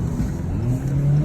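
A 2020 Jeep Cherokee accelerating, its non-V8 engine giving off a rising whine that climbs steadily in pitch over a continuous low drone, close and fairly loud, with no voices.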